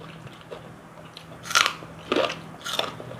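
Someone eats oven-baked chicken with cabbage, making three crisp, crunchy bites spaced about half a second apart, close and fairly loud over a quiet room hum.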